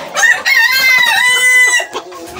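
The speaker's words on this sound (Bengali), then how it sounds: "একদম খুব ভালো একটা মোরগ" A rooster crows loudly and close by in one long, wavering cock-a-doodle-doo, followed by softer clucks from the plump, round hens kept alongside it.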